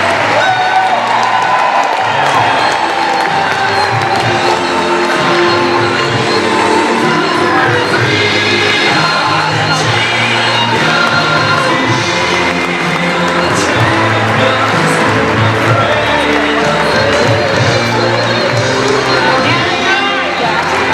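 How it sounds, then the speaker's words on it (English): A large crowd at a Navy Pier celebration for Illinois's 200th birthday applauds and cheers steadily, dense clapping and shouts filling the whole stretch with excited voices and children's yells mixed in. "Let's have one final hand clap for everyone"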